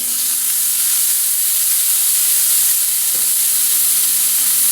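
Bone-in strip steak frying in a pan with garlic and peppercorns gives a steady, even sizzle and hiss throughout, close and fairly loud, with one faint knock partway through and no talking.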